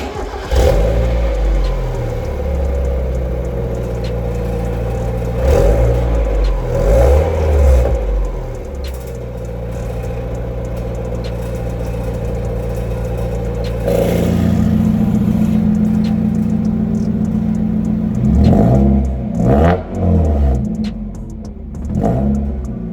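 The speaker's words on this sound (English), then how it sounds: "I rev it a little bit in both with a closed valve and an open valve" A Mazda Miata fitted with a cheap aftermarket valvetronic exhaust idles and is revved in several short blips, first with the valve closed, then louder and deeper with it open, close to the car.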